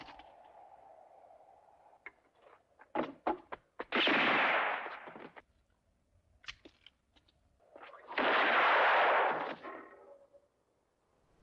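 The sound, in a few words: gunshot shooting a pistol from a window in a film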